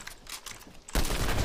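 Gunfire in Fortnite, with scattered faint shots followed by a sudden loud, dense burst of rapid fire that continues to the end.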